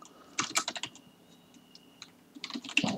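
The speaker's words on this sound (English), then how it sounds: "add a text block and type some text here" Keystrokes on a computer keyboard come in two quick bursts of close, clicky typing separated by a quiet pause, with no talking.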